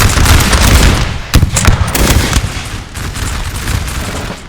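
Massed musket volleys crackle continuously in a Napoleon Total War battle in 1799, dense overlapping shots with a sharp burst near the middle, loud and close.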